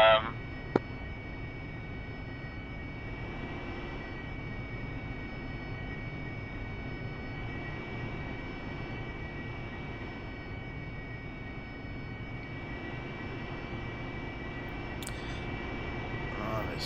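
AV-8B Harrier jet taxiing toward the main runway in the DCS World flight simulator, a steady engine whine and rumble holding at an even level throughout with faint tonal lines above.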